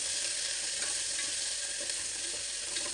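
Green chilies and curry leaves fry in hot groundnut oil, giving a loud, steady, close sizzle that hisses on without a break and with no voices.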